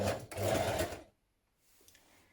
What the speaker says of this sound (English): Now sew the back part of your raglan sleeve in place.